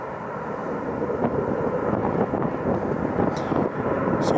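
A jet airliner throttles forward for takeoff at Phoenix airport, a loud steady roar with broadband rumble and rushing wind-like noise, heard from the 40th Street spotting area outside the airport, with no talking.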